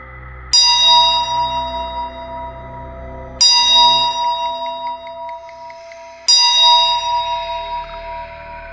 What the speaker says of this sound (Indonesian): Lonceng tersebut kian nyaring dan semakin mendekat.